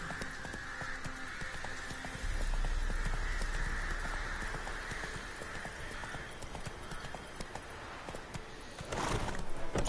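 A horse gallops in The Witcher 3, its hooves pounding in a steady, close clip-clop rhythm. The hoofbeats grow heavier partway through, and a loud rush of noise swells near the end.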